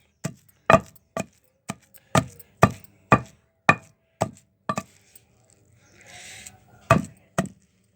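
Stone mortar pounding ingredients for tomato chutney, a dozen sharp knocking strikes in steady rhythm, close and clear, then a brief scraping rub before two final blows.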